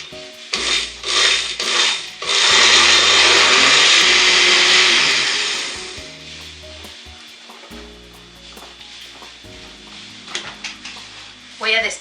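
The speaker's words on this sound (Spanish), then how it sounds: "vamos a licuar de a poquito porque nos puede aventar todo" Cheesecake filling is blended in a countertop blender, a loud steady whir for a few seconds after short pulses, with clattering kitchen handling and quieter talk before and after.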